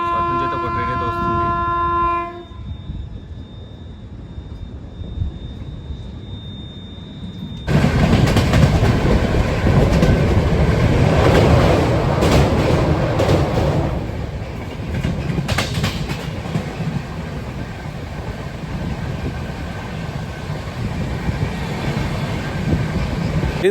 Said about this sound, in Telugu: సో అటు నుంచి అయితే ఒక ట్రైన్ అయితే వస్తుంది.